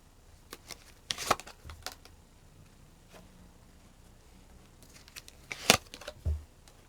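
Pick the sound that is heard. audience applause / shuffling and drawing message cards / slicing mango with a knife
shuffling and drawing message cards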